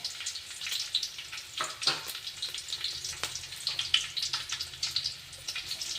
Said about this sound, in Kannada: ನಾವು ಬೆಳ್ಳುಳ್ಳಿ ಹಾಕೋಣ ಇವು ಗೋಲ್ಡನ್ ಕಲರ್ ಬರುವವರೆಗೂ ಫ್ರೈ ಆಗ